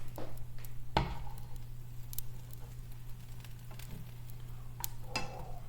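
Grilled cheese frying in a pan gives a soft, steady sizzle with scattered faint pops and crackles, quiet and continuous, with no talking.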